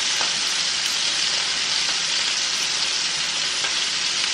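Patty melt ingredients sizzle loudly in a hot frying pan while being stirred, a dense, constant crackling hiss with faint scraping through the whole stretch.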